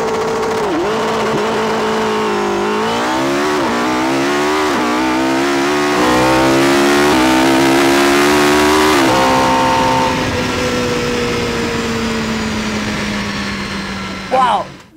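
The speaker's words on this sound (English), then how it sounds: "This is a Lexus LC500." A powerful Lexus LC500 V8 engine revs up repeatedly, its pitch climbing and dropping with each loud surge, then sustains a long high roar before settling.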